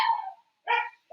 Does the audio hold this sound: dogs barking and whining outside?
yes